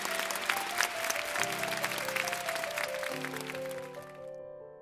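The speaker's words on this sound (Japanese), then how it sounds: "皆様大きな拍手をお願いいたします。" Audience applause for award winners at a piano competition prize ceremony in Tokyo, a steady clapping from a crowd that fades out over a few seconds, with sustained piano-like tones ringing beneath it.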